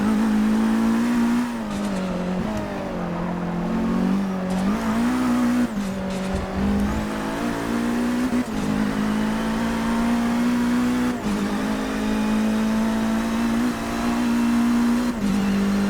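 A 2014 Chevrolet Cruze WTCC touring car in Forza Motorsport 6 at the Nordschleife accelerates hard, its engine droning loud and close with repeated rises in pitch and brief dips at gear shifts, plus some tire noise and no talking.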